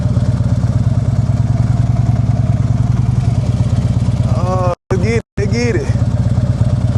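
A motorcycle being ridden, its engine running loud and steady with a throbbing low hum, close by; the sound cuts out briefly twice near the end while a rider speaks over it.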